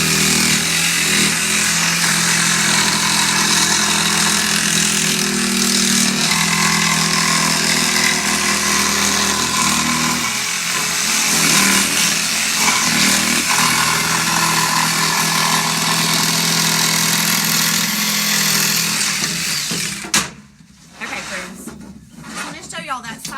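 A power saw cuts a wooden door hanger with a loud, steady buzzing whine that holds for about twenty seconds before stopping abruptly, followed by brief quieter handling sounds.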